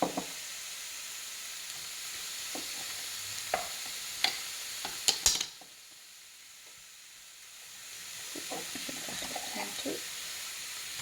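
Onions frying in a pan while cooking stuffed batbout with minced meat, soft crackling sizzle with a few sharp clinks and stirring taps, a brief quieter gap midway, then gentle sizzling resumes.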